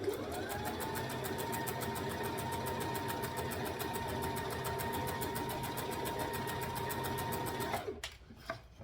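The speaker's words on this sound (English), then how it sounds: "I'm actually up all the way at a size 4 stitch length, it's not doing that big of a stitch because of the elastic" A sewing machine runs at a long stitch length while stitching elastic onto a dress, a steady close mechanical whir with rapid even needle beats that holds for about eight seconds and then stops abruptly.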